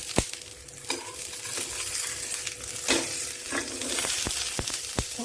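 Poha thalipeeth frying in a pan, giving a continuous crackling sizzle broken by several sharp spatula taps and scrapes, close by with no talking.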